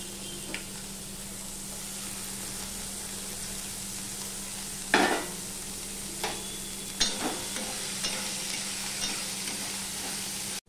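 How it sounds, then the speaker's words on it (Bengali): Onion, chili and potato sizzle in hot oil in a pan, a steady close frying hiss broken by a few sharp stirring scrapes and clatters, with a strong low hum underneath. "এবার তেলটা হয়ে গেলে আমি এখানে পেঁয়াজ, লঙ্কা, আলু সবই দিয়ে দিলাম"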